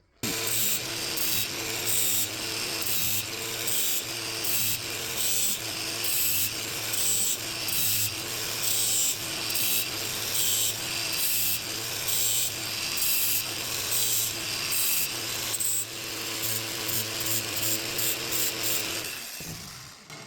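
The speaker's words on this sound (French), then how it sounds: "je vais faire un guillochage assez simple avec ma meuleuse et le disque à lamelle" An angle grinder fitted with a flap disc engraves a simple guilloché pattern on a table-knife blade, a loud, steady abrasive whine with rhythmic pulsing grinding strokes throughout, stopping near the end; no talk.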